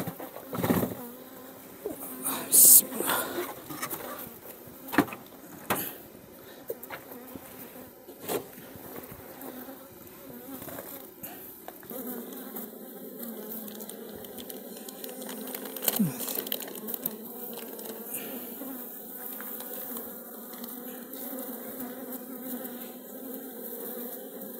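Honey bees buzz steadily around an opened, strong beehive with honey-filled comb during a brood-space inspection, a dense close drone with sharper passes as individual bees fly near, continuing throughout without talk.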